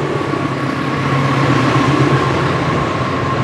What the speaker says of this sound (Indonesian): Dan ini ada kereta yang berjalan langsung teman-teman.